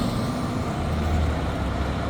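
A fire truck rolls along a downtown city street in Charleston, West Virginia, a low, steady engine rumble close by with traffic noise around it and no talking.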